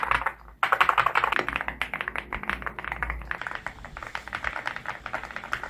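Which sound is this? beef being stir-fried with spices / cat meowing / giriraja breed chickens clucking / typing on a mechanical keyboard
typing on a mechanical keyboard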